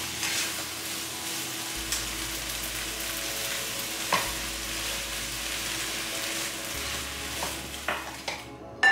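Water spinach (kangkung) sizzling as it is stir-fried in a pan with a little water, a continuous frying hiss broken by repeated scrapes and tosses of the spatula, no talking.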